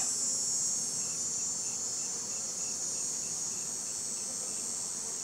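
Honeybees buzz in a steady, high-pitched drone that hangs evenly in the air throughout, with no voices.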